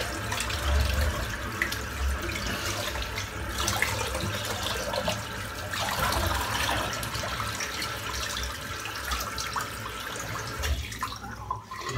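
Dirty water is poured out into a sink, a steady splashing and gurgling stream lasting several seconds at close range, with no talk.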